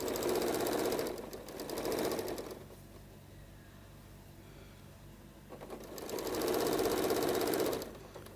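A sewing machine stitches mitred binding on a quilt, running in two loud, steady bursts of rapid mechanical clatter with a quiet pause between them.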